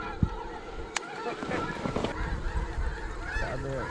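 Geese honking during a goose hunt in a blustery snowstorm, many overlapping calls at mid distance over wind noise, with a sharp gunshot-like crack near the start and another burst about a second in.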